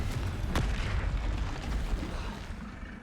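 A Confringo blasting spell detonates in Hogwarts Legacy, a sharp crack followed by a heavy, booming rumble that lingers loudly nearby.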